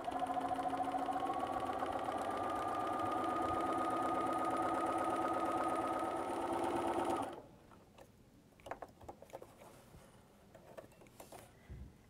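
A sewing machine fitted with a walking foot runs steadily while stitching a straight line across a quilt, a loud continuous whirring hum that stops abruptly, followed by faint handling clicks.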